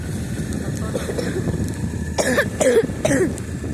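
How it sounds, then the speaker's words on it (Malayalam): Someone coughs three times in quick succession near the end, close and fairly loud, over a steady low rumble of background noise. "ചുമയാണ് കേട്ടോ"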